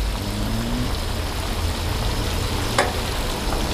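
Chicken pieces deep-frying in hot oil at a duck and chicken rice stall, a steady dense sizzle throughout with a brief sharp crackle near the end, no talking.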